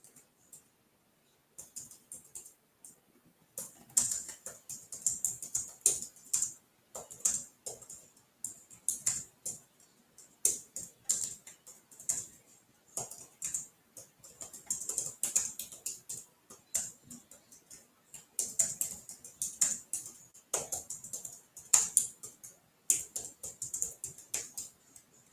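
Someone typing on a computer keyboard in short, irregular bursts of soft, close clicks separated by pauses, sparse at first and busier later, with no talk.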